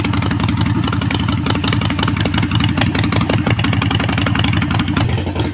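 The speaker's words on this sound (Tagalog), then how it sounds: "Vance & Hines short shots. Naka-idle siya." A Harley-Davidson motorcycle with Vance & Hines Short Shots exhaust idles loudly nearby, its deep rapid exhaust pulses steady and unbroken throughout.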